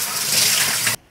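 Tap water runs in a steady, loud gush as sweet potatoes are washed under it, then stops abruptly near the end.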